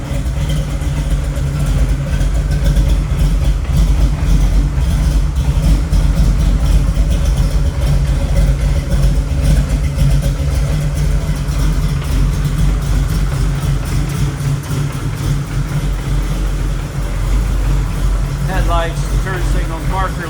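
A restored 1969 Chevy Nova with a 383 stroker V8 idles with a deep, loud, steady rumble that runs the whole time, and a voice speaks briefly over it near the end.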